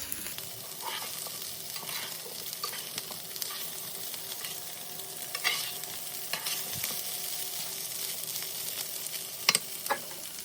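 Chorizo and potatoes frying in a pan while being stirred, a continuous close sizzle broken by scraping strokes and the occasional sharper knock of the utensil.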